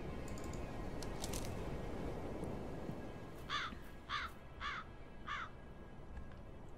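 Crows in the video game Black Mirror III give four harsh caws at a steady, evenly spaced rhythm over a low outdoor ambience, fairly clear and close.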